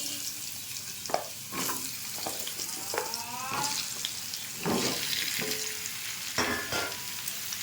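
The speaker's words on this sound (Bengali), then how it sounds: "এই তেলেই আমি পেঁপেটা আর আলুটাকে ভেজে নেব।" Papaya and potato pieces frying in oil in a pan, a continuous sizzle broken by repeated scraping strokes of a stirring utensil, close and fairly quiet.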